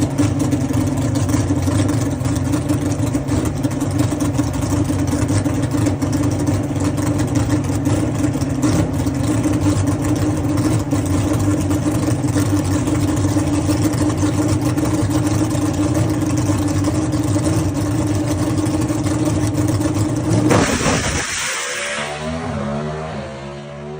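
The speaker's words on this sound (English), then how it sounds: "You became the first pro stock car to ever go down Flying H Motorsports Park." A pro stock drag car at Flying H Motorsports Park holds a loud, steady engine roar for about twenty seconds, then launches and the note rises and fades sharply into the distance.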